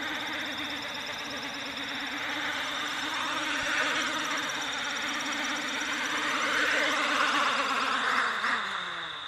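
Multicopter motors running on an Arducopter-controlled craft, a steady close whirring drone that holds its pitch and swells slightly as throttle rises, with no talking.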